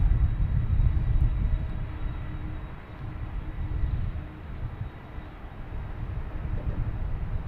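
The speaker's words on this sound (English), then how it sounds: "Got a Cape Air here coming in from Nantucket." A Cape Air plane arriving from Nantucket at Boston Logan airport passes with a steady broadband engine roar that swells and eases slightly, fairly loud and continuous with no voices.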